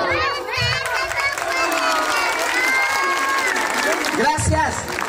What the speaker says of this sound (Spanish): ¡Fuerte aplauso para nuestro queridísimo Jorge!